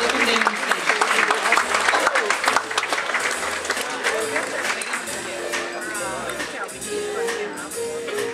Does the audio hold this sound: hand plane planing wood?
no